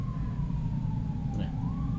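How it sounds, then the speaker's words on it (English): A siren wails faintly in the distance in a single slow sweep, sitting behind a steady low rumble. "Police sirens."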